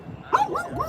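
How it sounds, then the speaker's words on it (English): A dog gives a single short, high, whiny bark or yip, close by and fairly clear, lasting under a second over a low background rumble. "And the dog's gonna bark at me again."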